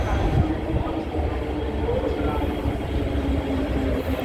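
Train at Lok Ma Chau Station in Hong Kong: a steady, close rumble of rolling railcars with low clattering wheel noise throughout, with no clear speech over it.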